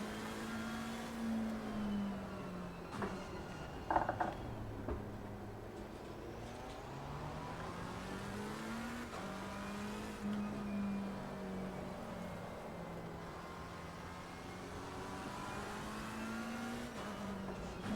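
Race car engine in a sim racing video game on an opening qualifying lap, pitch rising and falling through gear changes as it accelerates and brakes, steady and continuous at moderate level with no talk.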